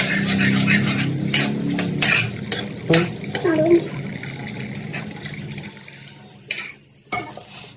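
Water poured into a cooking pan of yam curry on a gas stove, a splashing, running rush that fills most of the clip under clattering pan sounds and a speaking voice, then tapers off.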